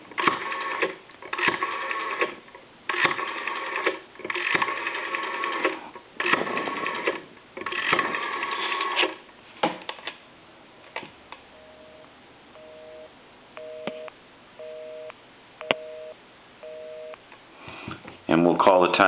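A telephone busy signal on a rotary desk phone: evenly spaced pairs of tones pulsing on and off about six times, clear and fairly quiet, after a stretch of line noise.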